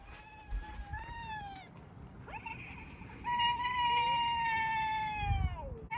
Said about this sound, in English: Why are you making that noise? Oh, because of that cat.